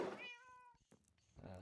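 Cat meowing in the video game Minecraft: one short, clear meow, fairly faint, set between bits of quiet speech.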